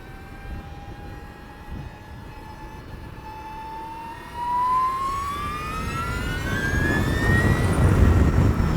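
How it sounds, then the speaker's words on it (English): Straight-cut gears on an Energica EVA Rebelle RS electric motorcycle whine as it accelerates, a clear tone rising steadily in pitch over several seconds before wind and road rush build up beneath it. "straight cut gears have a whine to them"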